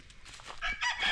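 A rooster crows briefly on a small mini farm, the call faint and somewhat distant against light background noise.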